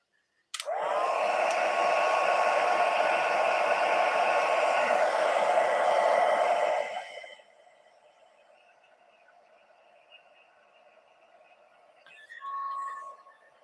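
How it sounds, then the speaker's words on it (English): A heat embossing tool blows hot air in a steady, loud whoosh for several seconds while embossing a stamped card, then cuts off and leaves a faint hum with a brief whir near the end. "When you do the heat embossing from under, or use the heat tool from under"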